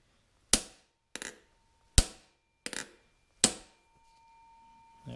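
Hammer blows tap a differential seal into its bore on a Minneapolis-Moline 445 prototype tractor, five crisp close strikes, some doubled as quick bounces, followed by a faint low hum.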